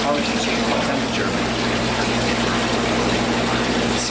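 Hot water gushes continuously into a jacuzzi tub aboard a Crystal cruise ship, a loud, steady, close rushing fill with a faint pump-like hum underneath that holds level from start to finish.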